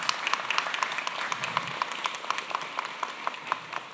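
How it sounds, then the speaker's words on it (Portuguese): At a Brazilian municipal congress session on women in politics, an audience applauds with steady, fairly close rhythmic clapping that carries on through the whole span. "uma salva de palmas"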